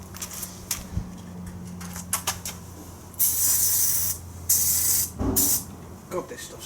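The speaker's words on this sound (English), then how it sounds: "I'm blasting all the bolts that need to come out with penetrating fluid" Penetrating fluid sprayed from an aerosol can onto chassis bolts of a 1972 Triumph Spitfire, two loud sustained hissing bursts of about a second each, close up, with quiet clanks and handling noises around them.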